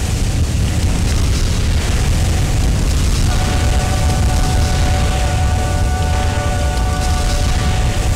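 Dense, continuous rumbling blasts from shelling fill the Armored Core Nexus mecha game without letup, loud and close, with faint tonal electronic game sounds threading through the roar.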